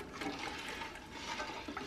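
Water pours steadily into a container of turkey brine, a continuous rushing, splashing stream that stays close and fairly loud for the whole stretch, with no voices over it.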